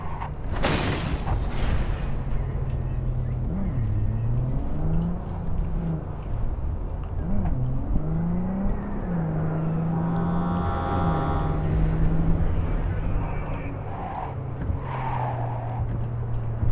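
A car driving in Cyberpunk 2077 makes a loud, steady engine rumble whose tone swoops up and down with acceleration, opened by a sharp thud and carrying on without pause.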